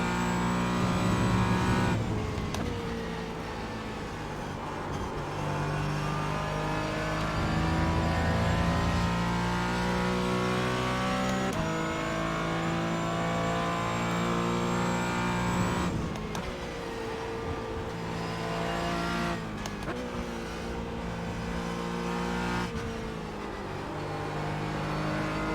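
Porsche Cayman GT4 race car engines roar in iRacing during an IMSA Michelin Pilot Challenge race, with steady loud engine drone and rising, falling revs through gear changes, continuous for the whole stretch.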